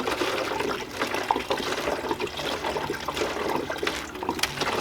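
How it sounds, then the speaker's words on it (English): RIT dye is poured back into a gallon jug through a funnel, making a steady, close, continuous splashing trickle of liquid with no pause and no talking. "I'm going to go ahead and get this all poured back into this gallon and save this stuff"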